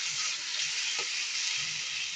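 Tomatoes sauté in a pan for a spicy chutney, giving a loud, continuous close sizzle with a single brief clink of a stirring spoon midway.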